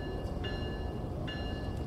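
Simulated ALP46 electric locomotive on the Northeast Corridor in Train Sim World 4 easing into motion, a low rumbling hum with two brief high tonal chimes spaced about a second apart, fairly quiet.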